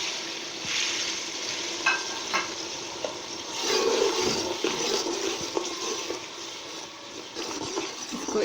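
Turmeric and red chilli powder roast in a handi over heat, a soft steady sizzle with occasional scraping stirs, fairly quiet throughout.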